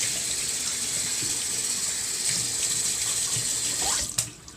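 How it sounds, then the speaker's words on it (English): Water runs steadily from a tap into an Old Spice shaving mug, a continuous close splashing stream that cuts off near the end with a few drips. "So I put my water in to dip my brush in."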